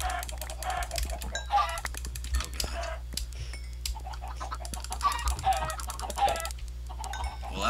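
Minecraft chickens cluck over and over in a busy flock, scattered short clucks layered on a steady low game hum, with no talk over them.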